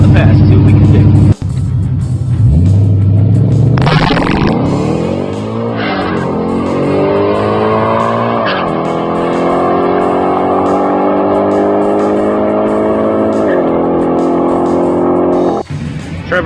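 A tuned race car makes a pass down a drag strip, its engine revving hard and climbing through gears in a loud, sustained run heard from inside or very close, with a sharp cut near the end.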